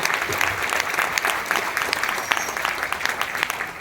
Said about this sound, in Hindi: यार, तो आपके लीडर के लिए जोरदार ताली होनी चाहिए